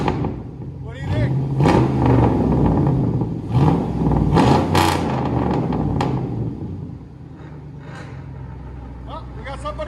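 A 2006 Chevy Tahoe with a 5.3L V8 and straight-piped true dual exhaust revs loudly in a series of throaty bursts, with voices talking over it throughout.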